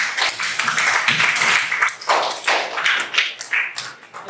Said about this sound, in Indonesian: Tepuk tangan untuk kelompok yang membuat motif parang